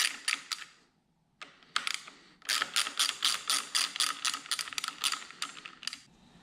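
Ratchet wrench loosening small 4mm bolts on a motorcycle throttle cover, a close, crisp run of rapid clicking bursts with brief pauses between strokes.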